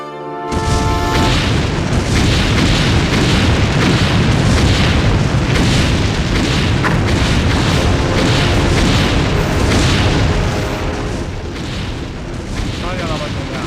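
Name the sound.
artillery cannon fire and explosions in a war film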